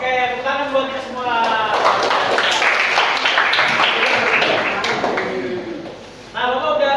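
Students clapping together in a classroom, a rapid dense patter of hands rising out of a teacher's voice, holding steady for several seconds, then fading as his talking resumes.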